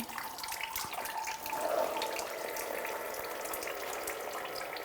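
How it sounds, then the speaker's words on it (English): Coolant trickling out of a disconnected lower radiator hose at the thermostat housing on a 2004-2009 Subaru Outback, a steady close-up splashing pour that swells briefly and then runs on evenly, with no talking. "Be careful for coolant that probably should slip out a little bit."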